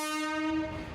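A loud, sustained Indian Railways train horn blares with a rich stack of tones, steady for most of a second before fading slightly against rumbling rail noise.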